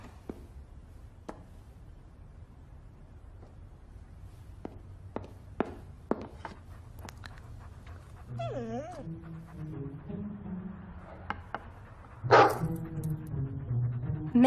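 A dog whimpers and yips in a house, with scattered footsteps and knocks early on, then rising whiny cries and short barks from close by over a low hum.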